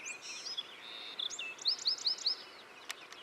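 A small Bewick's wren sings a bright, rapid series of high, buzzy trills and warbles, fairly close, with a few sharp clicks near the end.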